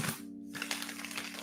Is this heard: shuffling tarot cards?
yes